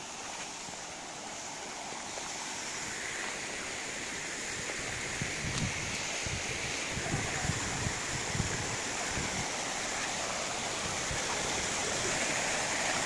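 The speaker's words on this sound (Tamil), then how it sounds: "ரொம்ப பெரிய அருவிலாம் கிடையாது, குட்டியாக தான் இருக்குது" A small waterfall at Courtallam rushes in a constant broadband roar, close and fairly loud, with some rumbling splashes and thumps building in the middle, and no voices.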